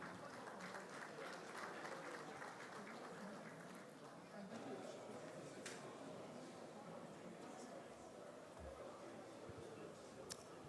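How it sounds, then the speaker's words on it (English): Sustained applause from a conference audience at an energy industry panel session, steady clapping across the whole stretch with crowd noise and some speech mixed in. "Please, one more time, a round of applause for the CEO of Rain Oil."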